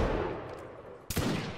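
Musket volley in the Napoleonic Wars game Mount and Blade, heard as a single sharp loud crack of massed gunfire about a second in, rising over a steady rumbling battle background.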